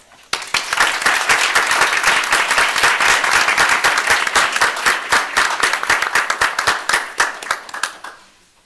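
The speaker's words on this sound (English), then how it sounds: "So let's give another round of applause to all of our retirees this evening" A room of attendees at a Cuyahoga Falls City Schools board of education meeting applauds retirees, a dense, steady burst of many hands clapping at close range that holds for several seconds and then thins and fades out near the end.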